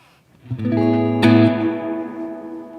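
A PRS Silver Sky electric guitar rings out a strummed chord through a reverb pedal, with a second accent partway through, the notes blooming and trailing off in a long, washy reverb tail.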